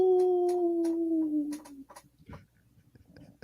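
A wolf howl sound effect rises as one long, clear, slowly falling wail, then breaks into a few short, scattered clicks and rough bursts.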